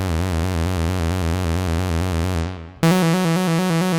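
A synth tone runs through Ableton Live 11's Chorus-Ensemble in vibrato mode with a triangle shape, giving an even, wobbling pitch that holds steady, dies away, then returns louder and brighter.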